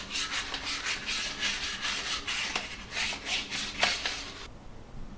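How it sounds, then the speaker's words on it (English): 2000 grit wet and dry sandpaper filing at a kitchen sink mixer tap part, a close, steady rhythmic rasping of quick back-and-forth strokes that stops abruptly near the end, with no talking. "I'm just going to file away with the wet and dry 2000 grit sandpaper"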